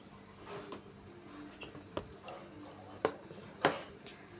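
Potato spring roll filling being mixed by hand in a bowl: soft squishing and kneading sounds, broken by a few sharp clinks of the bowl, close and quiet against a faint room hum.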